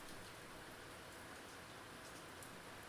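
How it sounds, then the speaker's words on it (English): Steady rainfall hisses continuously, an even, dense wash of drops on surfaces with no pauses, soft and constant throughout with no voices. "and then all you can hear is the rain"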